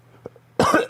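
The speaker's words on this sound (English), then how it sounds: "And I'm coughing." A single sharp cough bursts out close to the microphone after a quiet moment, followed by a second short cough right after.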